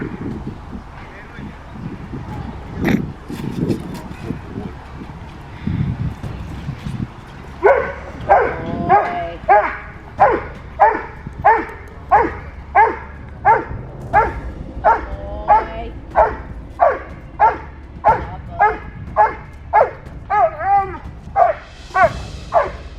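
A Doberman barks at attack dog training: about sixteen loud, close, evenly spaced barks in a steady rhythm, preceded by several seconds of voices and handling noise.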